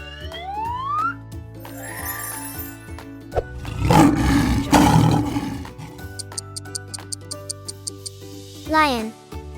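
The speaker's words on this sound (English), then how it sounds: "Lion." A lion roar in a children's animal-learning sequence, one loud broad burst in the middle over steady background music and cartoon sound effects, with a child-like voice nearby.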